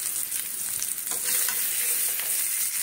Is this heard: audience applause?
no